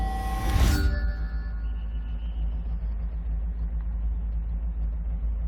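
A deep, rumbling V8 engine in a Mazda Miata in the game Forza 6 idles steadily just under 1,000 RPM, low and lumpy, after a brief higher whoosh at the start.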